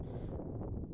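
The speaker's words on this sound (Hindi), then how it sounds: "बहुत ही ज़्यादा तेज़ हवा चल रही है" Strong wind on the Chandrashila peak snow trek in Uttarakhand buffets the microphone in a low, blustery rumble, loud and steady for a brief moment.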